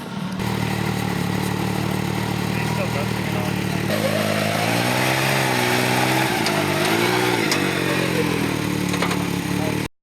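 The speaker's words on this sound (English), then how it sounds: "basically now they are getting ready to go do this motorcycle stunt fall scene" Steady motorcycle engine drone close by on a film set before a stunt scene, rising and falling in pitch as it revs, with voices talking over the top.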